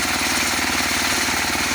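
A pull-started small engine runs close by with a steady, rapid chugging pulse throughout, loud and unbroken, with no voices.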